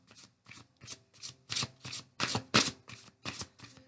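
A deck of tarot cards being shuffled by hand in a quiet room, with about ten crisp riffling bursts in a steady rhythm, close and clear with no talking over it.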